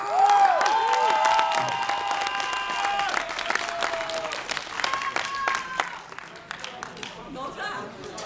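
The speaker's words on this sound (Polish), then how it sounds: "Wielkie brawa!" A concert crowd at a rock show in Bielawa breaks into loud applause and cheering that swells at the start and slowly thins, with guitar feedback tones ringing over it early on and scattered claps trailing off.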